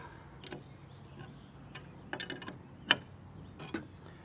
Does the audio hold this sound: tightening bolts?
yes